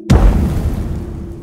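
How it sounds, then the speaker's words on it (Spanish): A wet, heavy explosion bursts out suddenly, a deep boom followed by a low rumbling tail that slowly fades. The sound effect sits within a horror narration and is heard on its own, close and loud. "me despertó, de repente, una explosión húmeda"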